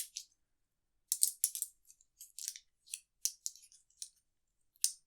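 Board game key tokens being shuffled by hand, crisp clicking rattles in irregular bursts separated by short silences, close and clear with no talking.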